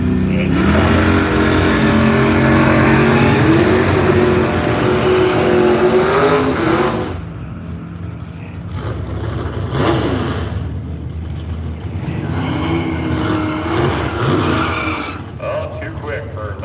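Race car revving and accelerating at Firebird Raceway in Boise, Idaho, loud and close at first with rising engine pitch, then fading into quieter crowd and track noise while a voice talks over it.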